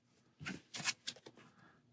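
A deck of Marvel Champions cards is shuffled during a tabletop playthrough, with four quick riffling bursts coming close together, each one crisp, papery and fluttering, and no talk over them.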